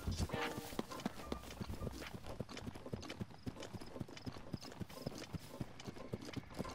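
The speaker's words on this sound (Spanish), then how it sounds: "Mira, caballos." Horses' hooves clip-clop in a steady, fairly even rhythm of repeated sharp knocks in the video game The Legend of Zelda: Breath of the Wild, heard close and continuous over faint game background sound.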